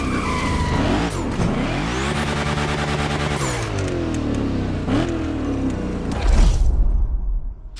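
Hoonicorn car in The Crew Motorfest video game, engine revving hard with rising and falling pitch sweeps and screeching tire squeals, loud and close, ending in a burst of skidding.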